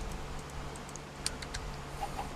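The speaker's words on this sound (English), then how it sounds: "Got chickens in our house." Game chickens cluck in a few short, faint calls over a low steady background hum, with no speech.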